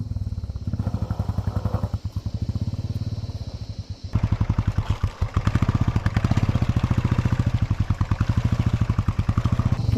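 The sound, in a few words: motorcycle engine straining in mud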